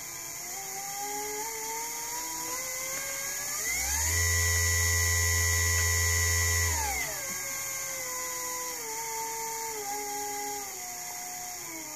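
A huge stepper motor meant for the Z-axis of a home-built milling machine ramps up to a loud, steady mid-speed whine with a low hum, holds for about three seconds, then winds back down.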